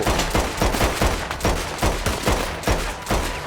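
Rapid machine gun fire in the Red Dead Online video game, a dense run of loud close bursts in quick rhythmic succession lasting a few seconds, alone without talk.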